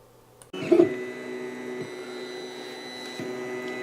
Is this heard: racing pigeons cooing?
no